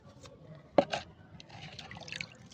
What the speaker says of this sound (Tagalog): Ayan, may tubig. Yan ang ginidilig ko para tumaba sila